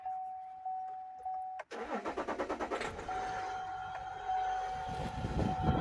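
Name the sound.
diesel truck engine starting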